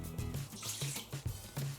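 A cup of water is poured from a kitchen tap for gluten-free pizza dough, with a steady close splashing rush and a few low gurgles over about two seconds.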